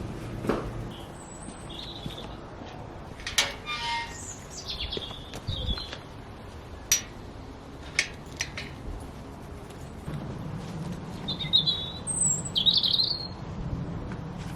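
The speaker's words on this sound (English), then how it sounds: "I've come outside because the birdsong is so beautiful today" Spring birdsong outdoors: scattered chirps and short whistled phrases from several birds, some near and some farther off, along with occasional clicks and faint rustling in a quiet setting.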